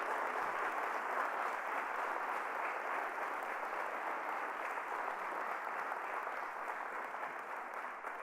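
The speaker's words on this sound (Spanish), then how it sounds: "Dale un fuerte aplauso a Jesucristo" A church congregation applauds steadily through a Spanish-language Sunday sermon, a continuous, fairly quiet wash of many hands clapping that holds evenly for the whole stretch without voices over it.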